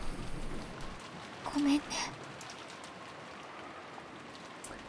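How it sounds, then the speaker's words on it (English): Steady rain falls in the visual novel Umineko no Naku Koro ni, a continuous soft hiss throughout, with a brief spoken line partway through. "disappeared beneath the sound of the rain"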